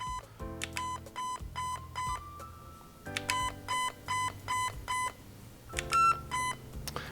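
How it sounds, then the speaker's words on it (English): Zion Arms R&D Precision PW9 AEG airsoft gun emits series of short electronic beeps at several pitches, grouped in quick runs with brief pauses, confirming fire-mode selection; clear and close, with no talking. "It's gonna give you a flat 2 beeps to confirm that the selection has been made."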